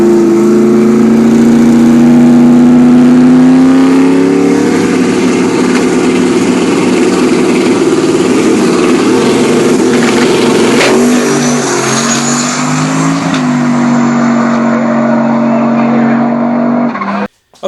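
A modified car, a friend's former ride, revs hard under the driver's foot, its loud engine note climbing and dipping for the whole stretch with a brief tire squeal midway, no talking over it.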